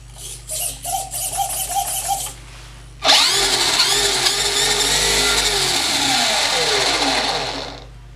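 A Redcat Volcano 18 V2 RC truck's electric motor whines in short bursts of throttle, then revs up hard in one long sustained high-pitched scream that slowly winds down, close and loud.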